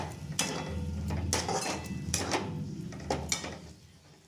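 Spice paste for a cauliflower korma is sautéed in a pan, with several sharp metallic scrapes and knocks of a spoon against the pan over a low background hiss, close and without talk.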